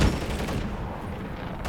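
Gunfire in the video game Modern Warfare 3, a loud opening shot followed by a quick rattle of further shots that tails off, with no talking.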